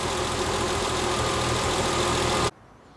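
A TVR 2500M engine idles at a steady, loud, even rumble for about two and a half seconds, then is shut off, leaving a faint background hush.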